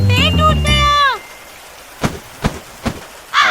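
Cartoon rain sound effect: a few sharp, evenly spaced raindrop splats following a sung or tonal vocal phrase, loud and close.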